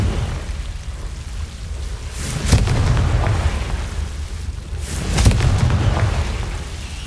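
Confringo blasting spell in Hogwarts Legacy: two heavy, booming explosions a few seconds apart, each a sharp burst followed by a rumbling tail over low crackling background.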